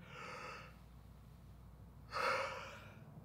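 Two soft, breathy yawns come close to the mic, each a drawn-out airy exhale separated by a quiet gap. The second is slightly louder than the first.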